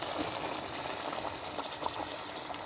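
Boiled water goes into a pot of lamb and bitter gourd curry, producing a dense, continuous close hiss and bubbling gush with no talk.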